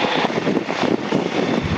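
A Yak 52 aircraft engine drones steadily in flight over the Hunter Valley southwest of Cessnock, a loud continuous propeller roar with wind rush and no talking.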